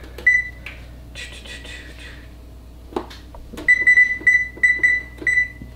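An oven timer beeps as it is set in a home kitchen: a few single electronic beeps, then a quick run of repeated bright beeps, with faint clatter between and no talk.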